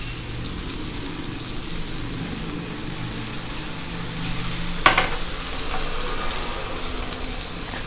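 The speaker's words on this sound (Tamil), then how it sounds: "நம்மளுக்கு ஃபிஷ் வந்து கம்ப்ளீட்டாக க்ரில் ஆகிடும்" Fish grilling in an oiled pan, turned over and left on a medium flame, gives a steady, close sizzle with a soft clatter near the middle and no talking.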